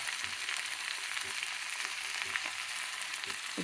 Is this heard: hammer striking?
no